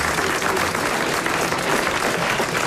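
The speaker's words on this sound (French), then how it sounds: "vos applaudissements" Studio audience applause on a French radio comedy show, dense and even clapping that stays loud and sustained throughout without interruption.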